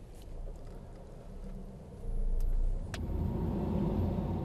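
A white Mercedes B-Class drives at about 45 km/h in a city-traffic collision-avoidance test, its engine a low steady rumble that swells partway through, with faint clicks and no voices.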